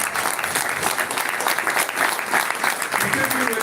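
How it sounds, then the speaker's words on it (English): An audience claps for colleagues at a live event. Steady, dense applause continues without a break, with murmured voices mixed into the clapping. "So can we clap for our colleagues who are here with us and the people who have worked hard?"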